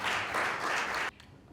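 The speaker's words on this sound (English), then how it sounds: "Ladies and gentlemen, please, a round of applause for Engineer Tommy Adebayo." A crowd at a Nigerian UK property show breaks into a round of applause for an engineer, dense steady clapping that stops abruptly after about a second, leaving a quiet room.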